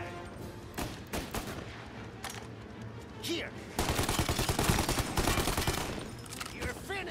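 A Tommy gun fires in the Mafia: Definitive Edition video game, long rapid bursts of loud automatic gunfire amid a busy shootout with other shots, shouting voices and game noise.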